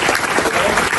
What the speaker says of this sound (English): a big round of applause for the institute and a school